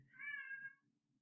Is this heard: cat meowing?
yes